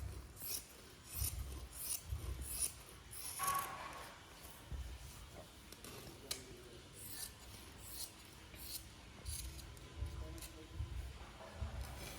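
Fabric for a scarf being cut by hand gives repeated soft rasping snips in an uneven rhythm, fairly quiet, with some talking in the room between cuts.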